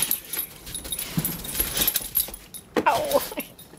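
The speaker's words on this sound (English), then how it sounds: "Oh, doggies!" Pitbull dogs play in snow nearby, with scattered scuffles, jingling collar tags and a brief whimpering yip, the sounds irregular and mostly moderate in level.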